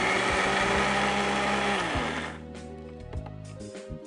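A mixer grinder jar whirs loudly as it grinds spices into powder, a high steady motor drone with rattling contents that slows and cuts off about halfway, followed by a few brief short pulses.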